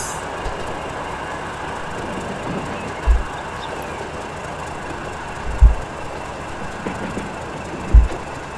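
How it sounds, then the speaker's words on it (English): Cargo train passing in the Transport Fever 2 simulation game, a steady low rumbling roll of rail wagons with a few heavier thumps from the wheels, close and loud, with no talk over it. "I think we're waiting for our other cargo train to pass."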